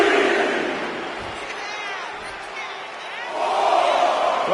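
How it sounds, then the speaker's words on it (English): Arena crowd in the WWE 2K24 wrestling game roars and cheers steadily, swelling louder toward the end, with the broad wash of many voices filling the whole stretch. "And Nikki is getting the crowd going"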